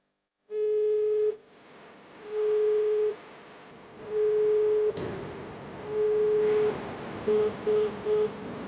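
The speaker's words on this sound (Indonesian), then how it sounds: "Kenapa Karina nggak angkat telepon dari aku ya?" An unanswered phone call rings out as a repeating ringback tone, steady pulses about a second long with gaps between, then three quicker short beeps at the end, over faint background noise.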